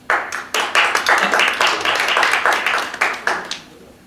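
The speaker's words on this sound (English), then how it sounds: "Ooh, I like the applause." A small jazz club audience claps after a blues performer's remarks, a burst of distinct, close hand claps that swells quickly, holds for a few seconds and then thins out.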